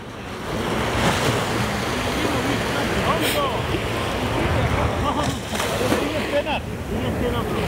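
Sea waves washing onto Alicante beach, a continuous rushing surf with wind noise buffeting the microphone and a few faint voices in the background.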